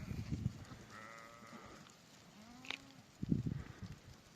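Thin, wavering bleats from newborn lambs, a couple of separate calls nearby, with shuffling and rustling noises between them.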